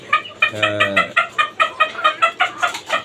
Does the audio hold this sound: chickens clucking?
yes